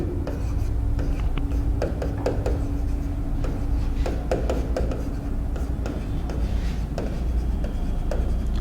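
Marker or chalk writing on a board during a physics lesson, a series of short scratchy strokes and taps in an irregular rhythm over a steady low room hum.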